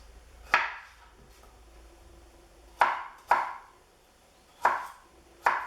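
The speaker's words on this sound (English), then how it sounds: "once you've got your two pears all nicely cored and de-skinned, you just want to chop these into small bits" Knife chopping cored, peeled pears into small bits on a board: five sharp, distinct impacts spaced irregularly, close and clear with no talk.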